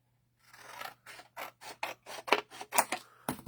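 Scissors trim a piece of cardstock for a handmade card with about a dozen short, crisp snipping cuts in a steady rhythm, close and quiet with no talking.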